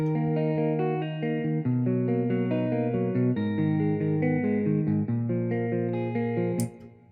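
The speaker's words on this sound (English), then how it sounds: "And with the reverb, this is how it sounds." A looping guitar pattern rings out with a reverberant wash, chords sustaining and blending into each other before the sound fades at the end.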